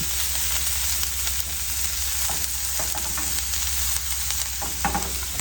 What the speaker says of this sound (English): Just frying up our meat.